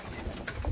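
A pet pigeon coos softly up close, a brief low throaty murmur heard alone in a quiet indoor setting.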